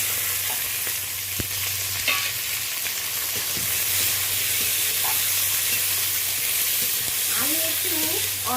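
Onion and tomato dropped into hot oil with split green chillies and whole-spice tempering sizzle steadily and close by, with occasional stirring scrapes and a short voice near the end.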